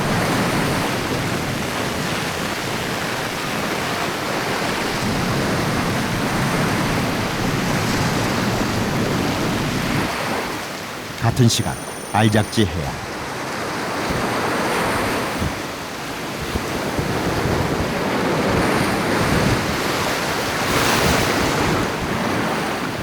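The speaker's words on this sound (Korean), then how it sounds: "파도는 여지없이 방파제를 강타했다." Typhoon-driven surf pounds a concrete breakwater at high tide on the Jeju coast, a loud, continuous roar of crashing waves and wind with a brief sharper burst of impacts midway.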